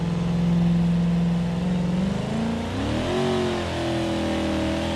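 A car engine in a BeamNG driving game revs hard in low gear, a loud continuous drone holding steady, then dropping and climbing again as the pitch shifts, with no voices over it.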